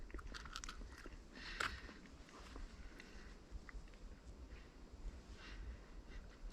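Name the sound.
chewing food with peanut butter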